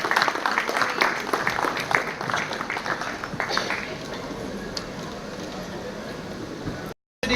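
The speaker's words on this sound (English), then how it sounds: "Let's have a huge round of applause for him." Crowd applause at the inaugural function of the India Licensing Expo as chef Sanjeev Kapoor is called up on stage: dense clapping for about four seconds, then thinning and fading, with an announcer's voice under it.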